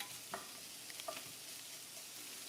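Onions and ham brown in bacon grease for baked beans, a faint, steady, hissing sizzle with a few soft pops and clicks, quiet and without talk.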